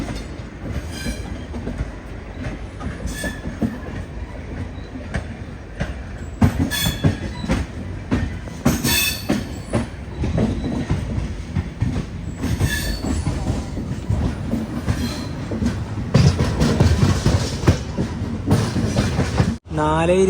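A Mangaluru–Coimbatore Intercity train pulls into Shoranur Junction, a steady loud rumble of wagons and rolling wheels with intermittent squeals and clatter throughout, cutting off abruptly near the end.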